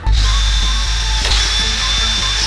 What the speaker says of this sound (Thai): ถ้ามีสว่านไฟฟ้านะคะ ก็ทำงานได้เร็วแบบนี้เลยค่ะ